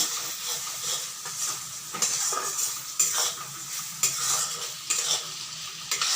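Spice masala frying for a pangas fish curry, with close sizzling and repeated stirring scrapes and clinks of a utensil against the pan in a steady rhythm, and no talking.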